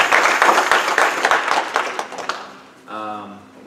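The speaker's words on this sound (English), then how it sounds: "Let's give a hand clap of praise." A church congregation claps in praise, a dense burst of many hands that fades over about two and a half seconds before a voice begins speaking.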